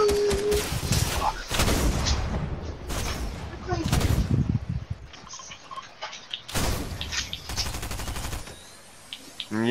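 Bursts of video-game gunfire in a multiplayer shooter, with loud volleys and automatic fire clustered at the start and again near the end, while players talk over it.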